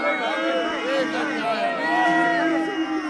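A street crowd in Temple Bar, Dublin, loudly boos and jeers as police break up buskers, a dense continuous wash of hostile voices.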